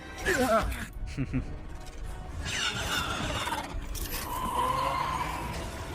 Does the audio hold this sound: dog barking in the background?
no